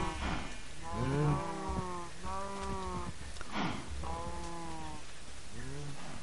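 Cows moo in Minecraft, several long, loud lowing calls one after another over a soft, rain-like background hiss.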